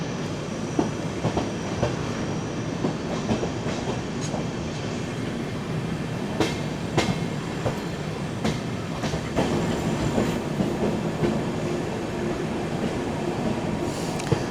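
Poorna Express running toward Dudhsagar station, a steady close rumble of rolling coaches with rhythmic wheel clatter and occasional sharp clicks over rail joints throughout.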